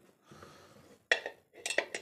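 Metal whistle weight of a pressure cooker set onto the lid: a few sharp, close metallic clinks and taps, quiet and with no talk.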